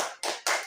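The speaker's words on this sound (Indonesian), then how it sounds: "Tepuk tangan untuk kelompok 4." Brief bursts of clapping for a student group in a classroom presentation, two quick loud surges of hands without any talking.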